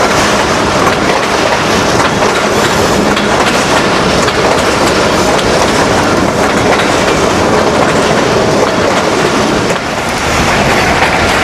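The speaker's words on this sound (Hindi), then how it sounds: "एक ज़बरदस्त ट्रैक साउंड।" Pakistan Railways' Lasani Express running from Sialkot toward Lahore, a loud continuous roar of wheels on track with steady rhythmic clatter, heard close from aboard the train throughout.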